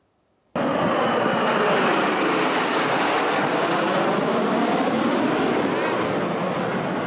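The Frecce Tricolori aerobatic jets thunder over a closed seafront at an air show, a loud engine roar that bursts in after a brief near-silence and holds steady and powerful to the end.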